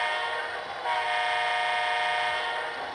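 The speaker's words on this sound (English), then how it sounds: "If I switch out the horn, since I have 2 horns on this, it should bring to the second horn" An N scale BLI PRR PA model locomotive sounds its horn, a steady, bright electronic train horn held for about three seconds, close and alone.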